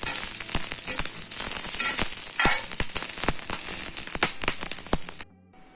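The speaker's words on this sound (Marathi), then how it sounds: "ही मिरची चांगली तेलामध्ये भाजणार आहे मी काळसर होईपर्यंत" Kolhapur chili peppers fry in hot oil with a loud, continuous sizzle broken by crackling pops and stirring scrapes, then cut off abruptly near the end.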